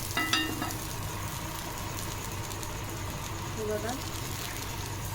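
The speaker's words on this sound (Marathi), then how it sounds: "आपण असं चारी बाजूनी तेल सोडणार आहे धिरड्याच्या" Palak sepu chilla frying on a griddle with oil added around its edges, a steady close sizzle with a brief clink near the start, while a voice speaks faintly underneath.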